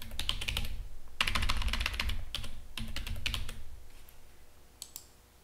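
Fingers type a password on a computer keyboard: close, crisp clusters of key clicks in quick bursts separated by brief pauses, with the tapping thinning out toward the end.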